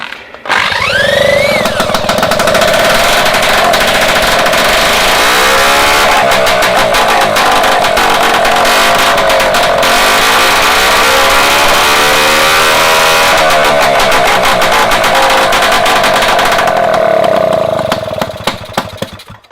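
A restored Solex 3800 moped engine fitted with its original 28 jet starts with a rising whine and then runs at a loud, buzzing, close-up idle that wavers in pitch before cutting off near the end.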